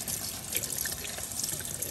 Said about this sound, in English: I'm gonna let it soften up a little bit under the water